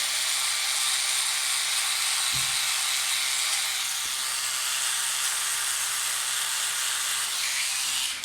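A Philips Norelco OneBlade electric trimmer edges a beard with a close, continuous high buzzing hiss that holds steady throughout, with only slight shifts in tone.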